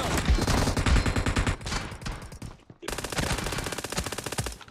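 Rapid automatic gunfire in the battle royale game PUBG rattles in dense, loud bursts, with a short gap before another sustained burst.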